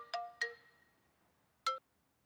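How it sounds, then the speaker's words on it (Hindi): A few short electronic ringtone notes sound from a phone that keeps getting repeated calls: two quick chime tones close together, a pause, then a third, clean and fairly quiet with no voices. "वो फोन करे जा रही है बार बार।"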